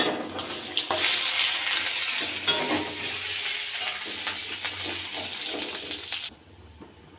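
Cumin and chopped ginger sizzle and crackle in hot oil with panch phoron for lau dal, a steady loud frying hiss that cuts off sharply near the end, with no talking.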